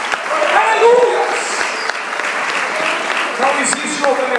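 A church congregation claps in sustained applause, dense and steady, with voices calling out and a preacher's speech mixed in underneath.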